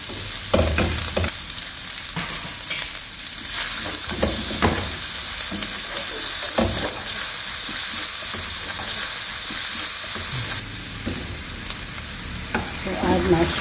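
Garlic and onion sauté in melted butter in a frying pan, giving a steady, close crackling sizzle with a few sharp clatters of stirring throughout.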